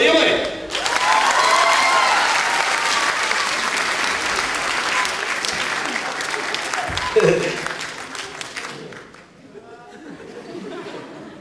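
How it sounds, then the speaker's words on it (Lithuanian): A festival concert crowd at LIK festival in Raseiniai bursts into loud, dense applause with some cheering. It holds for several seconds, then fades to murmuring chatter and a few remaining claps. "Plojimai."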